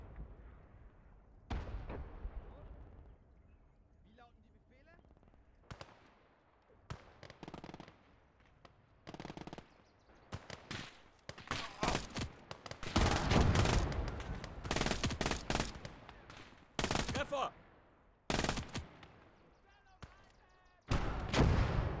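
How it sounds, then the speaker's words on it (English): Machine gun fire in the World War II video game Gates of Hell, sharp rapid bursts and heavy explosive booms, loud and close, coming in irregular clusters with stretches of quieter ambience between. "We have a machine gun with us as well."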